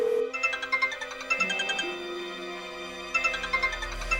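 A mobile phone rings with a bright electronic melodic ringtone, repeating phrases of tonal beeps close by and alone, with no speech.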